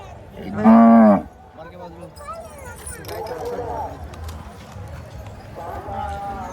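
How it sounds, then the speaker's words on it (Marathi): A Deoni cow moos once, loud and near, at a crowded livestock fair and animal show, followed by hoof clops, people talking and general crowd noise. "प्युअर देवणीमध्ये गाय आहे मित्रांनो."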